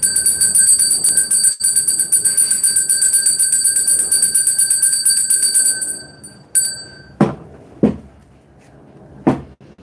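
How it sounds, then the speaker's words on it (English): A bell rings loudly and steadily, a sustained bright metallic tone that cuts off, followed by a few sharp separate strikes or knocks at close range. "I got to ring that bell"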